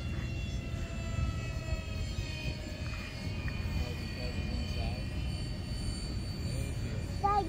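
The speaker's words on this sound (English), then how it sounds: "until this plane's done flying" An EDF FT A-10 model jet airplane flies overhead, giving a steady, continuous whooshing drone that holds at an even level throughout, with voices talking over it.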